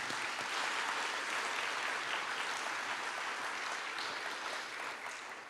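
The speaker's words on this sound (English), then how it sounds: "We have another round of applause for Patty." Steady applause rises from a staff convocation audience honoring a colleague, a continuous, fairly distant patter of many hands that fades slightly at the close.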